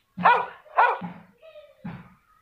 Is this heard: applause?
no